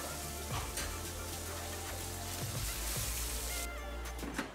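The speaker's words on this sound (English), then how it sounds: "Add the fish to the pan, it's that simple." Small Black Sea anchovies sizzle and crackle in a frying pan, a dense, continuous hiss with occasional soft pops and stirring scrapes, close and steady.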